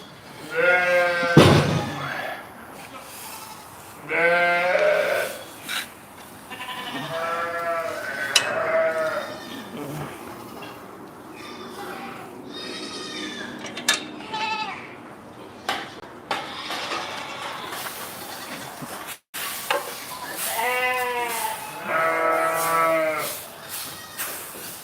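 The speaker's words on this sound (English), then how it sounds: "It was potentially a goat." Goat or sheep calls on a sheep farm at shearing time, several loud bleating cries spread across the stretch, some harsh and shouting, with sheep bleats mixed in and a short thud near the start.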